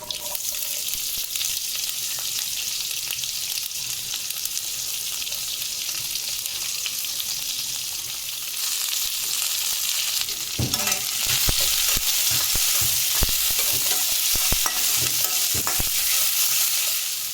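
Mustard seeds and onion hit hot oil for masala dosa, a moderate sizzle with stirring scrapes that grows noticeably louder and busier partway through, crackling on steadily without talk.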